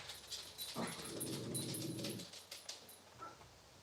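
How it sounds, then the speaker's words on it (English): Dogs bark and whimper somewhat far off, several overlapping calls, faint against a steady background hum. "Dogs are barking."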